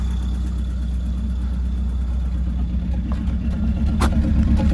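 Citroen AX 1.0 engine idling smoothly and steadily after a tapping fault was fixed, a continuous low rumble close by with no revving, alone without voices.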